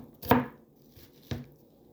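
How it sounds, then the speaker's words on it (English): A knife chopping cabbage and carrots on a board, two distinct thuds about a second apart, close and fairly loud with quiet in between. "So after I cut tiny the cabbage, I'm gonna do next is the carrot."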